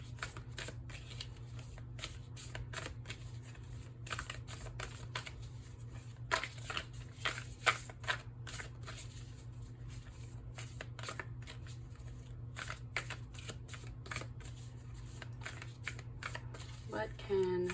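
Tarot cards shuffled by hand, a long run of close, crisp riffling flutters and soft slaps repeating in quick bursts over a steady low hum, with a voice talking faintly at times.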